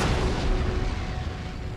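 Cannon and artillery fire in the strategy game Empire Total War, a dense continuous rumble of booms and blasts rolling steadily through the battle without clear gaps.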